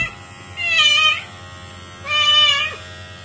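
A cat recovering from surgery after a difficult birth gives two clear, drawn-out meows close by, separated by a short pause, over a low steady electrical hum.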